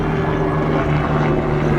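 A helicopter flies above an old temple, its loud, steady droning rotor and engine hum filling the clip without pause or talk.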